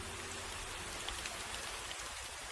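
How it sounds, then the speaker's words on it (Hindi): Heavy monsoon-style downpour of rain, a steady, dense hiss of falling water that stays quiet and even throughout, with no voices. "मूसलाधार बारिश हो रही थी"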